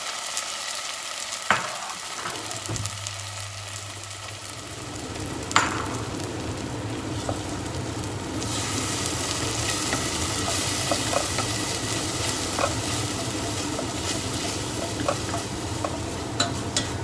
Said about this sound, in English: I'm just gonna go ahead and add the paste into the oil. Let it fry a little bit.